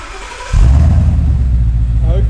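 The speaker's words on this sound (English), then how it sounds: "Cold start, Mustang, Remus exhaust, cat back," A Ford Mustang with a Remus cat-back exhaust, non-resonated, cold starting: a quiet lead-in, then the engine catches abruptly into a loud, deep, steady rumble held close to the listener, with a brief voice near the end.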